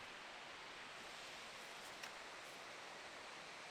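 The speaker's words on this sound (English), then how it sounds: "That's a really nice waterfall down there." A forest waterfall along Old Loggers Path gives off a steady, broad rush of falling water. It sounds distant and moderately loud, with no pauses or talk over it.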